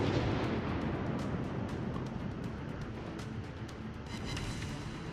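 A naval gun salvo from the heavy cruiser Atago in the World of Warships game booms out as a dense, rumbling roar that fades slowly, with faint crackling bursts on top and a slight swell near the end.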